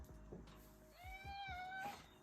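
A cat gives a single drawn-out meow, rising and falling, close by amid soft rustling and handling noises.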